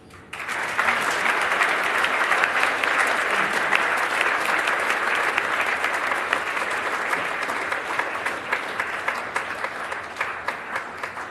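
Sustained, dense applause from a large crowd fills an awards ceremony hall for Professor Bauer, holding steady and loud before thinning slightly toward the end.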